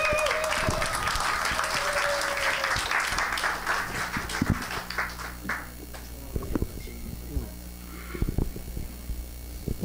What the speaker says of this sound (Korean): 여러분 박수로 좀 환영해 주세요.